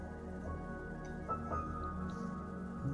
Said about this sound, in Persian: آبی زلال که بی وقفه از دل زمین می جوشد